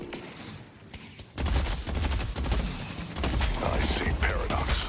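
Gunfire in the video game Deadlock, a dense, loud burst of rapid shots that starts suddenly and keeps rattling under busy game effects.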